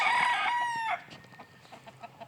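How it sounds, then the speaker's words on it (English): Bantam chickens of several breeds, including Polish, Andalusian and buff bantams, crow and cluck in their pens, with one loud close crow up front followed by scattered softer clucks. "Andalusian bantams, Polish bantams, Polish bantams, buffs"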